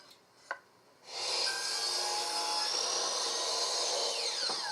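A wooden trim piece is hand sawn in a miter box, a steady, close rasping drag that starts after a light knock and continues without a break. The stroke rhythm of the blade is faint.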